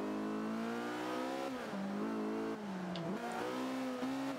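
A race car engine in Forza Motorsport 5 at Silverstone revs hard and climbs steadily, dipping briefly on gear changes around the middle before pulling upward again, loud and continuous with no talk.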